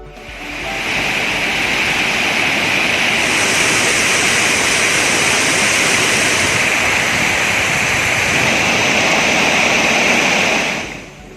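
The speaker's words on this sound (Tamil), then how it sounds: "அணையிலிருந்து திறக்கப்படும் உபரி நீர் காரணமாக கோதை ஆற்றில் வெள்ளம் கரை புரண்டு ஓடுகிறது." The Kothai river near Courtallam Falls in Tenkasi runs in flood from surplus dam water, making a loud, constant roar of rushing water that stays steady for about ten seconds with no voices.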